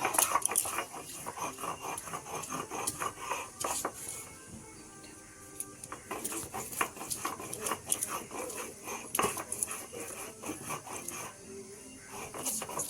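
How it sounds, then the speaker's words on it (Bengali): Ginger ground by hand on a stone grinding slab (shil-nora) for a vegetarian aloo dum: rough repeated scraping and rubbing strokes in an uneven rhythm, close and fairly loud, with some background noise. "এই যে আদাটা বাটা হচ্ছে"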